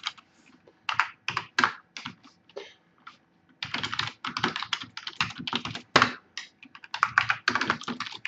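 Keys clatter on a computer keyboard while Java code is written, in uneven bursts of quick, close taps separated by short pauses and growing denser in the second half.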